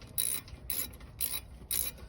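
A ratchet tightens brake caliper bolts on a Subaru during a front rotor and pad job, giving four quick, close ratcheting bursts at an even pace with no talk.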